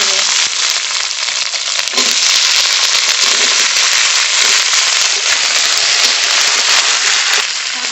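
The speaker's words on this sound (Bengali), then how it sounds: "চচ্চড়িতে কালো জিরে ফোড়ন দেব" Black cumin seeds tempering in hot mustard oil for a vegetable chorchori: a loud, dense crackling sizzle runs continuously and close, with small popping bursts throughout.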